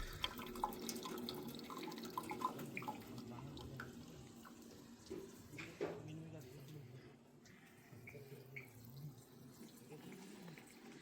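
Hot water runs from a tap in a soft, steady stream with drips and clinks, faint and close, with speech mixed in.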